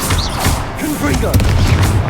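In Hogwarts Legacy, a Confringo fire spell goes off in a burst of booming, crackling blasts at close range, with a voice shouting over the explosions.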